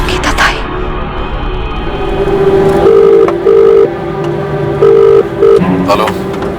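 A telephone rings in repeated short electronic bursts, loud and close, over a background of room noise.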